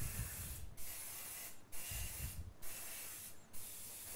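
Aerosol grease spray misted onto dishes for lobster royale custards, four short hissing bursts separated by brief pauses, close and clear with no talking.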